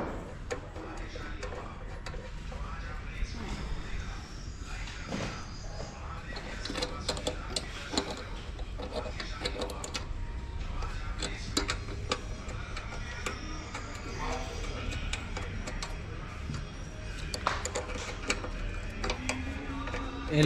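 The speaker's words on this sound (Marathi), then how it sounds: "हे बघा कॉक आतमध्ये जातो आणि त्याला खाली 2 स्क्रू आहेत ते फिट केले जातात" Screws being fitted beneath the petrol tap of a Royal Enfield Classic 350 during servicing, a steady run of close mechanical ticks and ratcheting clicks over a busy workshop background.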